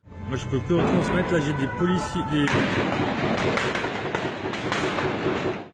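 Many gunshots ring out on a Paris street, a dense, continuous barrage of sharp cracks and booms mixed with crowd noise and some voices.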